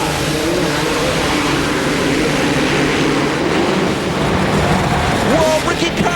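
Supercross dirt bikes rev their engines together at the starting gate in Indianapolis, Indiana, a loud, dense roar of many engines that swells and surges under a crowd and a commentator's voice.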